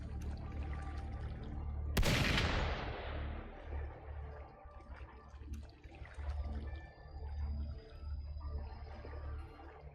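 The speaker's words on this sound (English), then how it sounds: "Gunfire! We've got intruders." A single sharp gunshot in a video game, a loud sudden crack with a long decaying tail ringing over a low rumbling ambient bed, followed by quieter scattered noises and no speech.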